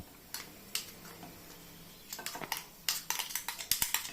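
Ground sprouted black gram scraped out of a mixer jar into a bowl, with a run of small close clinks and taps from a spoon against metal, sparse at first and then quicker.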